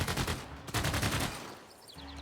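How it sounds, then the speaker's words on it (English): A machine gun army fires in the Civilization VI video game: a dense, rapid burst of automatic gunfire that rolls on for about a second and a half, then fades into lighter game sounds. "We're going to have this machine gun army fire."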